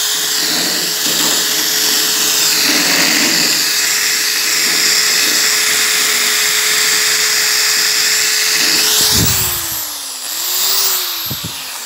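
An electric drill whines loudly and continuously as it enlarges a lock hole in a wooden door, its pitch dropping and wavering near the end as it slows.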